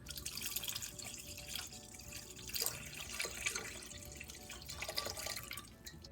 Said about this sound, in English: And now we're going to add in 1/4 cup of pure maple syrup and 1 cup of warm almond milk.